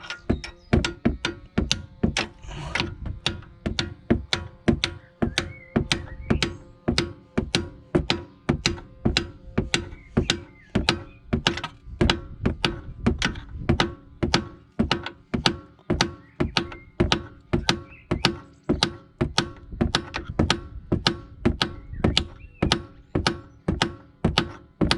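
Top suspension mount being banged out of a Volvo V70, S60, S80, XC70 or XC90, a long run of sharp metallic hammer blows, loud and close, struck at a steady fast rhythm with brief pauses and no talk.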